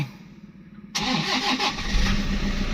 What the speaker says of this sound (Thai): ฟังเสียงเครื่องยนต์กันหน่อยนะครับว่าจะสตาร์ทติดง่ายไหม